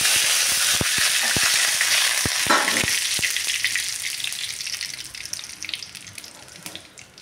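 Cumin and curry leaves hit hot oil for a hing aloo dish, bursting into a loud hissing sizzle with sharp pops early on, then slowly fading over several seconds.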